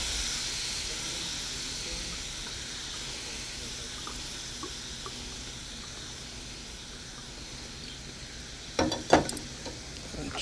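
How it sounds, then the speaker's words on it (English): Regular white table wine poured into a hot pan to deglaze the drippings, a steady low sizzle and hiss with light stirring, then a burst of louder clatter and bubbling near the end, close with no voices. "And to deglaze, I'm just going to use a regular table white wine."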